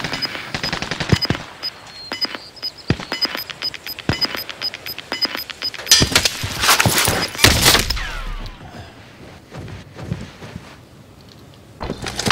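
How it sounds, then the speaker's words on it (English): Rapid bursts of automatic gunfire and single shots from two players firing in an online duos shooter game, dense and loud throughout with heavy clusters in the middle. "Two people shooting at me"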